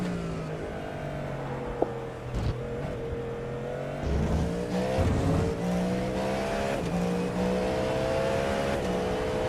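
A race car engine in an endurance race at Circuit de la Sarthe, in a video game, roars steadily, rising in pitch as it accelerates, with a brief tire squeal, continuous and loud without any talking.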